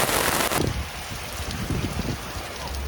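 Rain falls steadily on a wooden sailing ship's hardwood hull during epoxy work, a dense hiss that is loudest in a short burst at the start and then settles into a softer, even patter.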